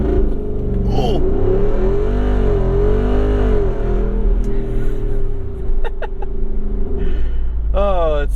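A 2022 Jeep Wrangler 392 V-8 accelerates hard, its loud engine note rising through the revs for several seconds, dipping at a gear change, and settling into a steady drone with an occasional exclamation from inside.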